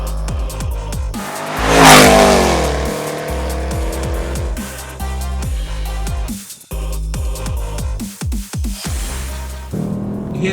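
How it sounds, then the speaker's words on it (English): A Range Rover Sport SVR engine revs hard and loud, rising to a roaring peak and then dropping away in several sharp bursts with crackles between, close and alone with no talk. "It's the sound of one of the most spiteful engines on the planet"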